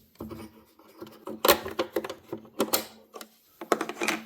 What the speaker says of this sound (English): There are these 3 red screws right here. You just undo these.